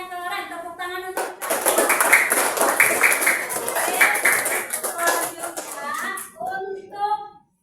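Schoolchildren in a classroom break into a burst of hand clapping that swells and carries on for several seconds, with a teacher's voice and children's chatter before and after it.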